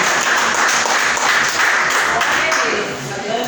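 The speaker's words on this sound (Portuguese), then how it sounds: "As palmas glorificam o nome dele." A church congregation claps together, a steady, moderately loud wash of many hands that fades slightly near the end.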